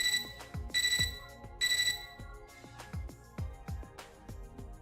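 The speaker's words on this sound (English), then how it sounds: "Our mutual silence is interrupted by my computer terminal's beeping." A computer terminal in the video game Fate/Extra beeps in two bright, repeated electronic bursts over a steady musical backdrop of plucked, rhythmic notes. The tones are loud and close, with no speech.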